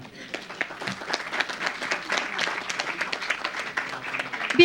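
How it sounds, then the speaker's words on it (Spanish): Warm audience applause at an open parliamentary forum on front-of-pack nutrition labelling in Mexico, dense steady clapping from a crowd that holds for several seconds. "A todos ellos les damos un cálido aplauso."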